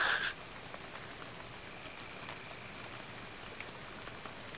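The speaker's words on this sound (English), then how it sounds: "The rain." Steady rain in the video game Garden Story, a soft, even hiss of falling drops that runs throughout at moderate volume after a brief louder burst at the start, with no voices.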